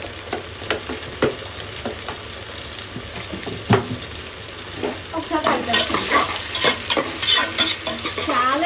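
Ginger garlic paste sizzles in hot oil for a coconut milk chicken biryani while a spoon scrapes and stirs the pan. Close, steady frying turns busier and louder toward the end.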